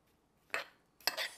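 Utensils clink against a bowl while stirring salad with lemon juice, two quick close metallic scrapes separated by a short pause.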